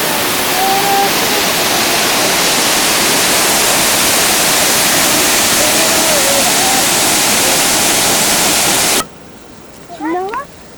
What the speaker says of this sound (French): On entend le bruit de la cascade derrière.